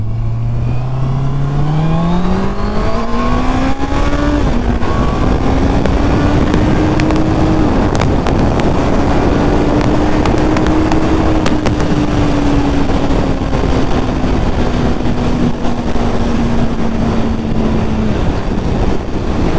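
A Honda CBR650R motorcycle accelerates hard along a dual carriageway, its engine note climbing through the gears with brief dips at each shift, loud and steady beneath heavy wind rush.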